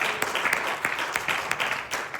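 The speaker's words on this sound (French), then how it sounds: "Applaudissez." A church congregation claps and applauds steadily for a couple of seconds to welcome a guest, a dense patter of many hands in a reverberant room.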